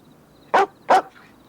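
A dog gives two sharp, loud barks in quick succession, close by and alone against a quiet background.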